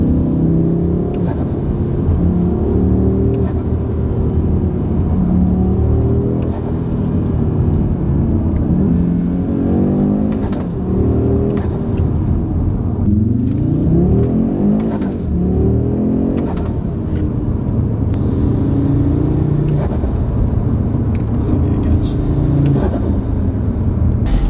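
Audi RS3 with a 5-inch air intake, its engine droning loudly and continuously with repeated rising and falling revs, heard up close without any talk.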